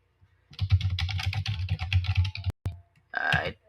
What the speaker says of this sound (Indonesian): Kita tinggal mengetik ya nama produknya